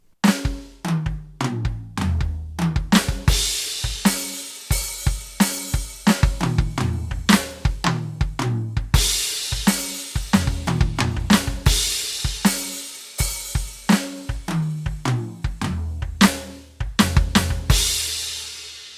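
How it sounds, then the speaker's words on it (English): A drum kit plays a long run of busy fills packed with flams, rapid tom and snare hits rolling continuously with occasional cymbal crashes. "Here's an example of some fills that use flams."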